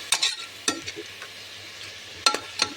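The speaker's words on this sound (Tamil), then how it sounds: "நல்லா பச்சை வாசம் போகிற அளவுக்கு இதை நம்ம கிண்டிக்குவோம்." A spoon scrapes and stirs tomatoes in a pan in several separate strokes over a soft, steady sizzle of frying.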